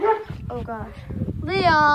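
A dog yips and whines in short high bursts close by, while a person speaks over it.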